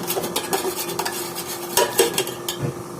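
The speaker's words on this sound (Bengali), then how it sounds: "একটু লবণ দিয়ে এগুলো এখন একটু ফাটিয়ে নেব খুব ভালোভাবে" Five eggs beaten with salt in a bowl, rapid clinking and scraping strokes of a utensil against the bowl, close and busy, with a few sharper taps.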